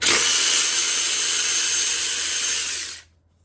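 Power tool whirring loudly and steadily for about three seconds on a 12 mm nut of a 2015 Toyota Tacoma, then cutting off abruptly into quiet.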